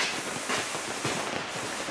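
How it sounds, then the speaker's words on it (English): A big sandblaster runs in a workshop, prepping classic Mini parts such as door frames and a rear subframe, giving a faint, continuous hissing blast with slight rhythmic pulsing, heard at a distance. "he's using the big sandblaster"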